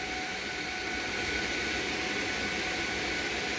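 Twin fans of an RTX 3090 graphics card spinning hard under a cryptocurrency mining load, a steady, loud vacuum-like whoosh of rushing air with faint tonal whine, unbroken throughout with no talking.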